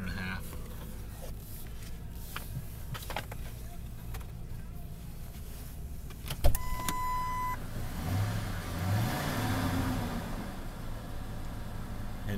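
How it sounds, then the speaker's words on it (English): A low gas engine of a 2005 Ford F250 pickup truck idles steadily, then a click and a short chime sound before the motor rumbles a bit louder in the background. "Engine sounds great."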